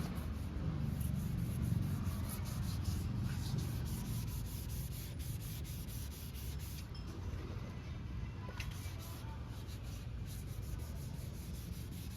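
Steady abrasive rubbing of sandpaper over a scratched, crazed plastic headlight lens on a Starex van, a continuous close scratchy sanding that runs without pause throughout.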